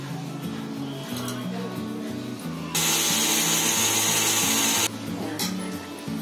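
An electric kitchen grinder finely grinds ingredients for a special Marathi recipe for new mothers after delivery, whirring in short bursts with one louder, sustained high-pitched run in the middle, under faint talk.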